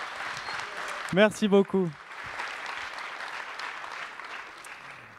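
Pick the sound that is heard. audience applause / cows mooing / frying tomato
audience applause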